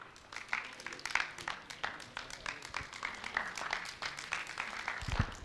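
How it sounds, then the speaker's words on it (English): Quiet, somewhat distant applause from an audience at a 2024 book launch: a continuous patter of many hands clapping with no break, heard at low volume throughout. "Please, another round of applause for ALHAJI Ogutade."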